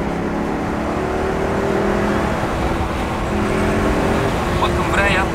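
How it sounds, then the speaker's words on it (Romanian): A 2005 Maserati Quattroporte Sport GT with a V8 engine, giving a loud, steady engine drone with a rising rev at the very end, heard close up with cabin noise. "Sunetul ăsta de V8, foarte smut."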